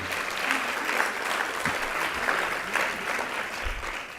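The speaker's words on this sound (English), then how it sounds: "Give them a round of applause, if you would." Applause at an awards gala in Baltimore: a roomful of people clapping steadily and fairly loudly, a dense patter that fades slightly at the end, with a brief voice under it.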